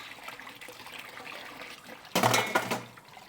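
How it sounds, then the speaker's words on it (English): Tap water runs over a dish in a kitchen to wash off stuck cheese, a broad splashing rush lasting under a second amid quiet background room noise. "so let me just rinse this a quick sec."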